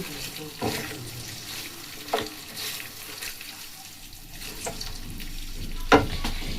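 Water from rinsing a blender, carrying cashew paste, is poured into a simmering prawn malai curry in a pan; a close, splashing pour mixes with light sizzling and a few scrapes and knocks.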